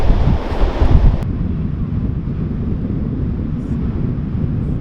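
Ocean surf breaking at Scripps beach, a steady loud wash of waves with heavy wind buffeting the microphone, rougher in the first second and then an even, continuous roar with no talking.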